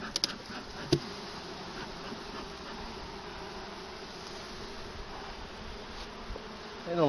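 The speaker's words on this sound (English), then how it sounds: "They don't look at all happy, do they?" Honey bees buzz steadily inside an opened hive after a puff of smoke, a dense, even hum filling the whole stretch with one brief knock near the start.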